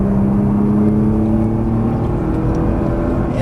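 A Nissan GT-R at full throttle on the Exotics Racing track in Las Vegas, its engine droning loud and close with a rising tone held steadily throughout.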